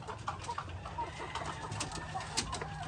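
Soft, scattered clucking from several White Leghorn hens, short low calls repeating irregularly over a faint background hum.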